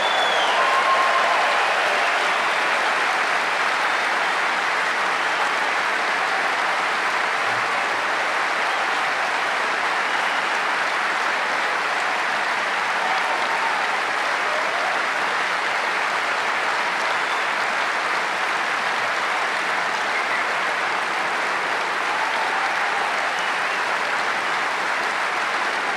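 A large conference audience in Sydney applauds in sustained, even clapping that stays loud and steady for the whole stretch, with no speech over it.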